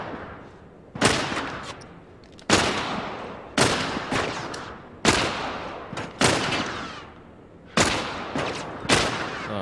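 Heavy gunshots ring out in The Last of Us, about eight loud, close blasts spaced irregularly, each followed by a long echoing decay.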